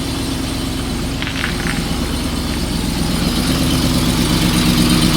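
A Corvette with a Whipple supercharger runs steadily on a dyno, a loud continuous engine drone with heavy low rumble that swells slightly toward the end, no voices present.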